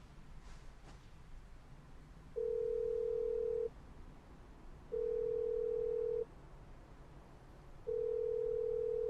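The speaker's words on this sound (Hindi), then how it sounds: "फोन नहीं उठाया, फिर से करती हूँ।" Three long, steady ringback tones with even pauses between them, from an unanswered phone call in a Hindi-dubbed Chinese office drama, heard alone over quiet room tone.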